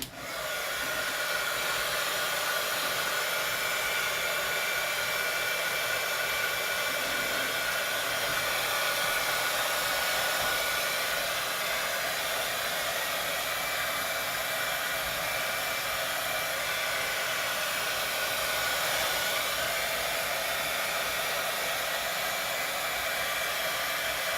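A hair dryer blows steadily and loudly for the whole stretch, drying an alcohol ink painting of a bunny; the airflow holds a constant roar with no talk over it.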